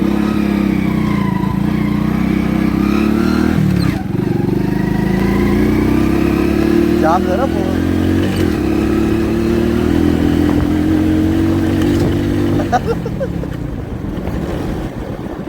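Motorbike ridden along a Konkan village road: a close, loud engine drone that rises and falls in pitch with gear and speed changes, then eases off near the end, while a few brief words are spoken.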